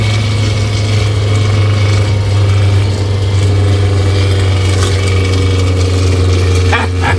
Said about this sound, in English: So go ahead and click your Jake brake on here.